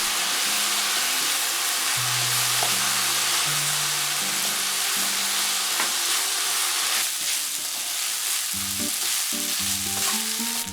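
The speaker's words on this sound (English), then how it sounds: "The fish sauce, the light soy sauce. Stir for 2 minutes." Thai basil chicken fried rice with fish sauce and light soy sauce sizzles loudly in a hot pan, a continuous close hiss with a spatula scraping and stirring through it, and soft background music underneath.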